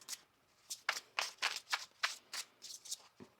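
Tarot cards shuffled by hand, a quick series of about a dozen crisp riffling bursts in an uneven rhythm, close and fairly quiet, with no voices.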